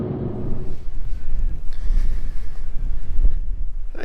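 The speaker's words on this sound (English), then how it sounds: "it's a bit windy up here. Hopefully wind noise isn't going to be too much of a problem." Gusty wind buffets the microphone at a mountain lookout high in the Snowy Mountains, a loud rumbling roar that rises and falls in uneven surges.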